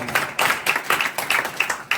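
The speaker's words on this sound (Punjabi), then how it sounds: "ਜਿਹਨੂੰ ਸਮਝ ਆਉਂਦੀ ਆ ਤਾੜੀਆਂ ਮਾਰਾਂਗੇ ਖੁਦਾ ਵੱਲ।" A church congregation claps together in a steady rhythmic beat, roughly seven or eight crisp group claps in two seconds, loud and close, with no talk over it.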